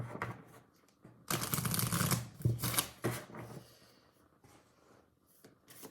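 Tarot cards being shuffled by hand, a few soft riffles and then a long, dense stretch of brisk papery shuffling close up, tapering to light card handling.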